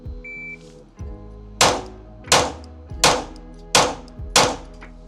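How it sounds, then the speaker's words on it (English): Five shots from a Glock 43x pistol fitted with a Radian ram-jet slide and magwell, fired at a steady pace under a second apart, each a sharp loud crack with a short decaying tail, outdoors on a range. "All right, so that was 5 rounds, a little over 4 seconds."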